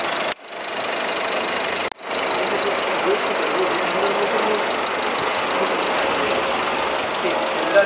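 A car engine runs steadily with a rough, knocking idle, briefly interrupted twice by short cuts, then continuing evenly throughout.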